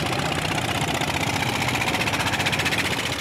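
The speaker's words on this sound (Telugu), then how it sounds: "ఒకరి పడవ ఒకరు దాటాలని ఇంకొకరు పోటీ పడుకుంటా మోటార్ పడవలు తోలుతుర్రు" Motor boats race each other on the water, their engines a loud, steady, rattling drone that holds throughout without a break.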